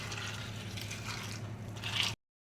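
Water pouring into a large bowl of puffed rice, a steady wet splashing and squishing fill at close range, swelling briefly near the end before cutting to silence.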